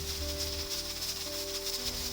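A stovetop pressure cooker's lid weight spins and hisses while cooking Korean instant noodle rice, a steady close broadband hiss with a faint rattling tone underneath.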